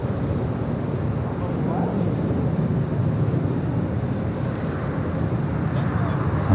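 An American Airlines jet takes off at LAX, a broad, steady roar with a windy, rushing quality that holds throughout and swells slightly toward the end.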